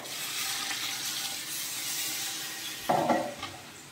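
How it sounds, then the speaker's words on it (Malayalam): Boiling water goes into a pot of ghee rice, a continuous hissing rush with a louder splashing burst near the end. No voices are present. "ഇനി നമുക്ക് വെള്ളം ചേർത്ത് കൊടുക്കാം"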